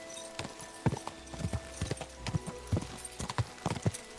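Horse hooves clip-clop in an uneven walking rhythm in the medieval world of Kingdom Come Deliverance 2, with close, distinct thuds over a faint background hum.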